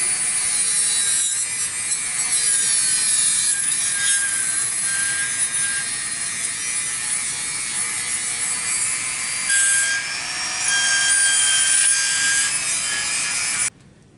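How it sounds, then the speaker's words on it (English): Rotary tool grinding a metal part of a Pietta 44 revolver, a continuous high-pitched whine with shifting tones and a gritty grinding edge, close and steady for most of the clip before stopping abruptly near the end. "Just go in there with this and just grind a little bit"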